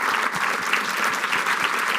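A lecture audience bursts into applause at the end of a campus talk, steady dense clapping filling the room for the whole stretch, close and even in loudness with no break.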